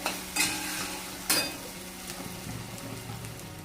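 Masala fries in a pan with sharp scraping stirs from a spoon, two strong strokes early, then a steady sizzle with lighter clinks.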